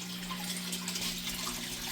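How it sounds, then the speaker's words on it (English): Steady running water from a small indoor koi pond with live plants, a continuous trickling wash filling the room with a low hum beneath it, with no talking. "that's why you're hearing running water all the time in this room"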